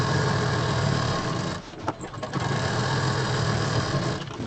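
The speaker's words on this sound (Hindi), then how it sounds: "जो हमने अभी सिलाई की है उस पर एक मशीन और चलाएंगे" A stitching machine running through fabric for a homemade travel bag, a steady mechanical whir close up that dips briefly midway before resuming, with no talk.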